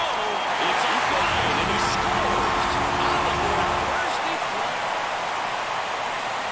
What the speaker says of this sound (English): this is a busy stadium. There's so much going on in the background.